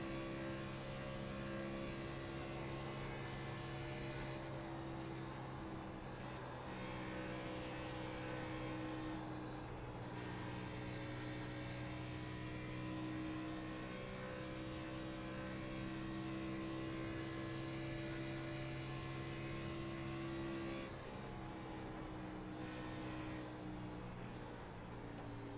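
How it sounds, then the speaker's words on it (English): Race car engine held at steady high revs while rounding a 2-mile oval bend, a continuous droning whine with slight pitch wavering and brief dips, heard at a distance through broadcast. "take a moment to listen exactly how Webb is going around this 2-mile bend"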